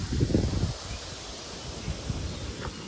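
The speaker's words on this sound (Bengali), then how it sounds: "প্রচুর ঝড় দিচ্ছে, প্রচুর ঝড় হচ্ছে" Gusty wind from a heavy storm in a village blows through trees, leaves rustling loudly at first, then settling into a steady, softer whoosh with small gusts.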